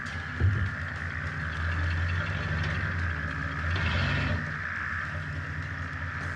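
A steady, low car engine idle hums throughout, a constant rumble with faint mechanical clatter and no voices.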